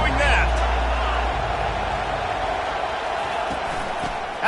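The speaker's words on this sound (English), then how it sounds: "They challenge this crowd to bring the energy, and I'd say they're doing that." Stadium crowd in an NCAA football video game roaring steadily and loudly throughout, a dense sustained wall of cheering that swells slightly at the start and holds without a break.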